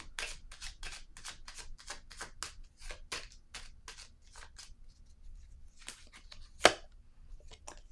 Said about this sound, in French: Je vais déposer une carte ici dans la zone.